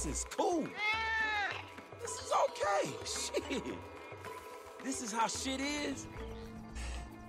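A cat meowing in Grand Theft Auto V, several drawn-out meows and shorter cries, fairly near, with someone talking over and between them.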